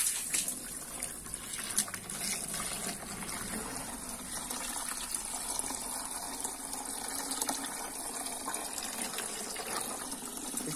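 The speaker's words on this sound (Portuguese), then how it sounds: "Agora eu vou encher de água." Water running steadily as a vase fountain for orchids is filled, a faint, continuous gushing and splashing with no talk.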